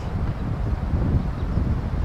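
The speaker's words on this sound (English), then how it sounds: "It's probably pretty windy on this thing" Steady, strong wind rumbling and buffeting a microphone, a continuous low roar with no other clear sounds.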